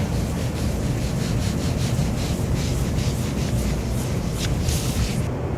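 A pad rubs across a wood surface during French polishing with a little mineral oil, making a soft, continuous swishing in repeated strokes and circles, close and steady with a broad hiss.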